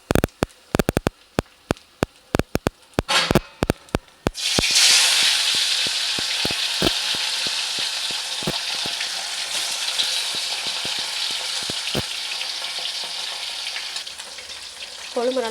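Fish drops into hot oil for a Tirunelveli-style fish curry, first with sharp clicks and clatters, then a loud, steady close sizzle that carries on with occasional pops.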